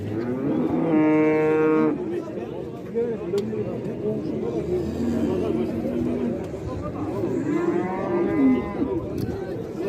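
Cows moo at a crowded livestock bazaar in Özgön, with two long, loud, close bellows near the start and end, over constant crowd chatter and people talking.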